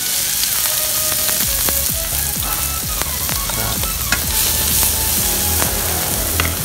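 Shallots and garlic fry in hot oil, giving a steady, loud sizzle with crackles and pops throughout, heard close up with no talking.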